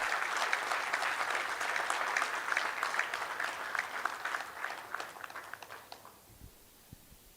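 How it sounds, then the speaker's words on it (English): Audience at a shipbuilding and ship repair session gives the Honorable Minister sustained applause, a dense burst of clapping that holds for about six seconds, then thins to a few scattered claps and fades out. "I request an heartfelt applause to the Honorable Minister"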